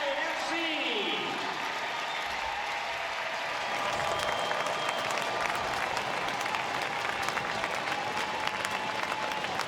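Stadium crowd at Memorial Stadium in Seattle cheering Seattle Reign FC on a beautiful evening, a steady roar of applause and crowd noise that is joined by an announcer talking over it.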